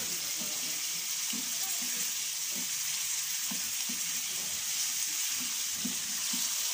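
Chicken karahi frying in hot oil over fairly high heat, a steady, dense sizzle that stays constant throughout, with occasional faint clinks and movement underneath.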